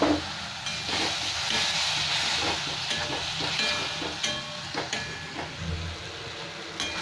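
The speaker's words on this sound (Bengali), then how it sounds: "এটা একটু ভেজে নেব 1-2 মিনিট, তারপর আমি টমেটোটা দিয়ে দেব" Masala and tomatoes fry in a pan for egg curry, a loud, steady sizzle and hiss up close with scattered stirring scrapes and clicks and no voices.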